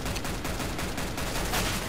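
Gunfire from CS:GO, a dense, sustained spray of rapid shots close and loud with little gap between them, no voices.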